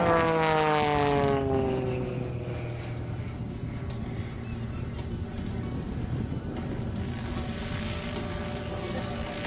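An aerobatic propeller plane's engine drones loudly while looping and rolling, its pitch sweeping down then steadying, with no speech.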